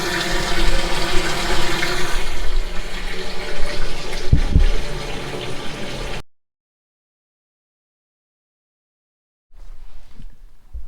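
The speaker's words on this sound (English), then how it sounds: "I want to fill this tank with water because it hasn't been water tested" Water gushes loudly into a tank being filled for a leak test, a steady rushing pour for about six seconds that cuts off to silence, followed by a faint trickle.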